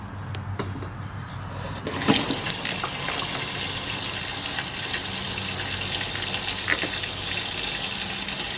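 Gasoline pours steadily from a FuelWorx gas can with its vent button pressed, a continuous close liquid gush with a brief splashy surge near the start and no talk over it.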